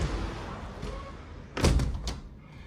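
A hotel room balcony door in central Málaga, Spain, swings shut with a single close thud over steady street noise from outside, followed by a faint latch click.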